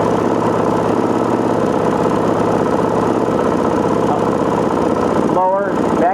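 A Gen II four-stroke engine idles steadily during carburetor tuning, a loud, even, rapid putter that runs without a break while someone talks over it.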